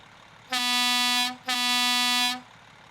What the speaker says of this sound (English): Okay, horn sounds pretty good.